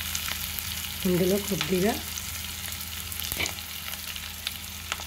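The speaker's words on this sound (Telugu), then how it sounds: "గోల్డెన్ బ్రౌన్ కలర్ వచ్చే వరకు వేయించుకోవాలి. ఇలా ఉల్లిపాయ వేగేటప్పుడే" Onions fry toward golden brown in a pan with a steady hiss and crackle, while a voice speaks briefly over the sizzle.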